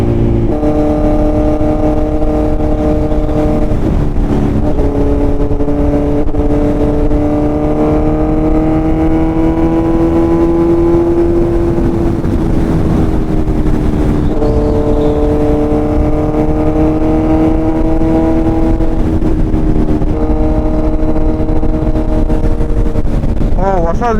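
A Kawasaki Z900 fitted with an Arrow full-system exhaust runs loud and close, its engine note climbing and falling in long sweeps for over twenty seconds with wind rush underneath.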